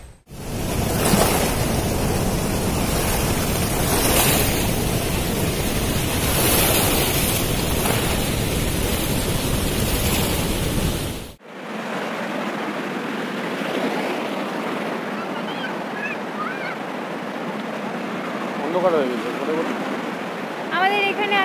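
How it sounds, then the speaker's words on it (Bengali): Water released from Maithon Dam rushes below in a loud, broad roar that fills the first half, then drops to a softer, more distant wash with faint voices over it. "জল ছেড়েছে এখানে"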